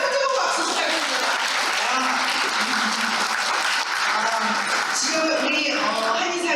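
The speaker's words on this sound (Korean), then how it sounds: "다시 한번 뜨거운 박수 부탁드립니다" Sustained applause from a large crowd fills the room at a Korean community year-end gala in Seattle, steady and loud throughout, with a few voices audible beneath the clapping.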